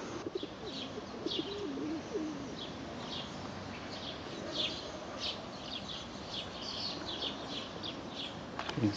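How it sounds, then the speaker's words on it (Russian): Soft pigeon coos and scattered bird chirps over a constant outdoor rumble, fairly faint and distant, in the town of Nova Kakhovka, Ukraine. "Голуби подбирают."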